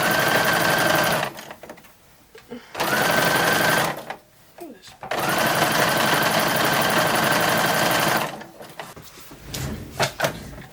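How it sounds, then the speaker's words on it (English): Sewing machine stitching the side seams of a 1930s dress, running in three long steady bursts with short pauses between, close and loud, with faint handling clicks in the gaps. "Now sewing the side seams"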